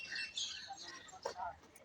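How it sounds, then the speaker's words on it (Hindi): Faint birds chirping and tweeting in the distance in a park, scattered light calls over a quiet outdoor background. "यहाँ पे बहुत सारी चिड़ियों की आवाज आ रही है"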